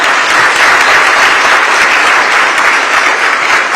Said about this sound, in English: Bigger round of applause, Bangalore